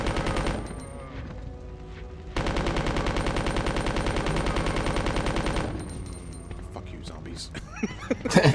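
In Resident Evil 2 a submachine gun fires a long unbroken stream of rapid shots for about three seconds, loud and steady, with lighter game sounds and faint voices before and after.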